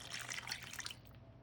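A cup of water poured into a bowl of boxed cake mix and eggs, a close, steady splashing trickle lasting about a second before tapering off.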